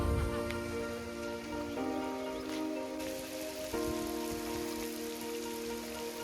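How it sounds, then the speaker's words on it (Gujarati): Steady rain pours down on a farm during rice planting, a dense continuous hiss of drops hitting surfaces, close and even throughout with no voices. "આપણે વરસાદની રાહ જોતા હતા અને વરસાદ આવી ગયેલો છે"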